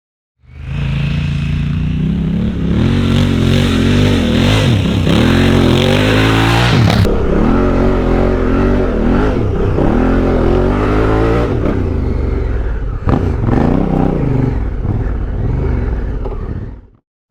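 A Honda Africa Twin motorcycle ridden off-road, its engine droning loud and close throughout with rising and falling revs as the rider shifts and throttles, steady rumble with wind noise and no talking.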